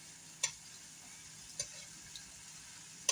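Shrimp sizzling in a pan give a faint, steady frying hiss under a few sharp clicks and taps, with no voices.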